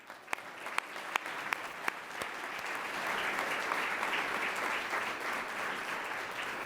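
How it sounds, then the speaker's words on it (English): Applause from an audience at a lunch forum begins with a few scattered claps, then swells into a steady, full round of clapping that holds to the end. "Let's give everybody a round of applause."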